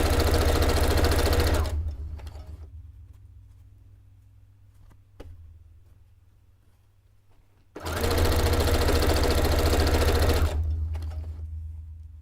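A sewing machine stitching black fabric in two loud, steady bursts of rapid needle chatter, separated by several seconds of near silence with a faint hum and a couple of small clicks.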